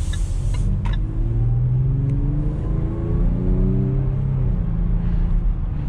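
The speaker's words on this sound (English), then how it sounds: "but that engine sounds pretty good" A 2020 Range Rover Velar P340 engine revs and accelerates under load, a loud, steady drone with rising and falling tones heard from inside the cabin, with no talking.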